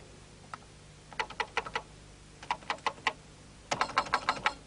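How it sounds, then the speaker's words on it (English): Keys clack on a Commodore PET computer keyboard in three quick bursts of crisp taps, close and distinct, with short pauses between bursts and a faint steady hum underneath. "Now hold the Shift key down to type them."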